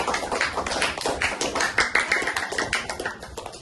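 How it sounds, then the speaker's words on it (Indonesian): A classroom of students claps together in a steady burst of applause, dense overlapping hand claps at close range that hold strong for a few seconds before slowly thinning out. "Kita kasih aplaus dulu untuk Kenzi dan Kim."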